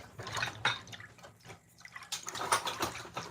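A whisk stirs milk in a pot on the stove for homemade banana pudding, giving close, wet, sloshing liquid swishes in uneven bursts, with no talking.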